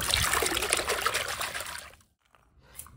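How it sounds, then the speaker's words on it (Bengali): Spinach is swished and rinsed in a container of water to wash off soil and sand, a close splashing trickle that dies away into quiet, then a faint drip at the end. "শাকটা এখন ভালো করে ধুয়ে নেব"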